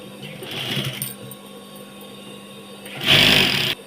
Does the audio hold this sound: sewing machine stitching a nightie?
yes